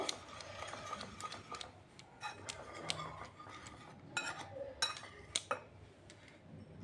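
A spoon mixes cake batter with baking powder in a bowl, giving quick light clinks and scrapes in an irregular rhythm, close and fairly quiet.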